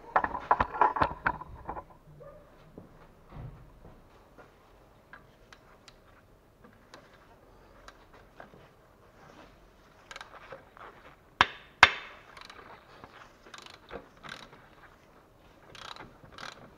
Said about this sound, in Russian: И откручиваем теперь болт подушки.